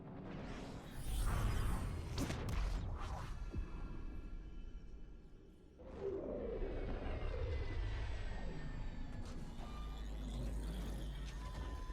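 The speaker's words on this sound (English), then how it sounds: "We're just landing on the main landing pad." A spaceship settles onto a landing pad in Star Wars Jedi: Survivor. Loud roaring engines hiss and whoosh, dip briefly midway, then swell back into a steady rumbling drone, with no one talking.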